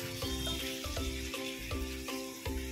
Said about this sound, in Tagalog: Papakuluan lang muna natin ito for 3 minutes